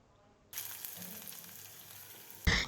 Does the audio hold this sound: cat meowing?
no